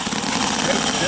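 Steady engine idle at a club meeting, compared to a Harley, a continuous low rumble heard close and loud over its whole short span.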